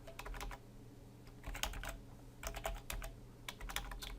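Computer keyboard typing while PHP code is written, bursts of quick close keystrokes separated by short pauses over a low steady hum.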